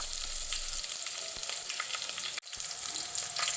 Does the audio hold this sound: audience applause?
no